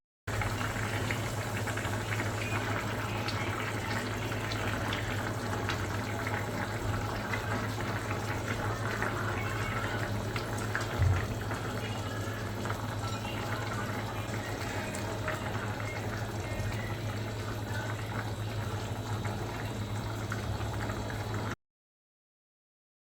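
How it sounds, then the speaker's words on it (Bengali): Bengali hilsa fish curry with yam simmering after about a cup of water goes in, a steady low bubbling and gentle liquid hiss over a constant hum, lasting unbroken for about twenty seconds. "এবার আমি ঝোলের জন্য দিয়ে দেবো 1 কাপের মতো পানি।"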